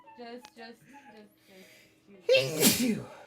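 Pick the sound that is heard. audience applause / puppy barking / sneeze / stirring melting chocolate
sneeze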